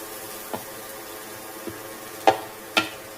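Chopped chicken dropped into a pan of frying spices, a low sizzle under a few soft scrapes and two sharper stirring clatters close by near the end.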